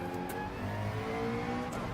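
Car engine in the Gran Turismo 7 racing game revving hard and accelerating through a slow first gear, a steady, loud mid-pitched engine drone with harmonic whine rising across the gears, alone with no talk.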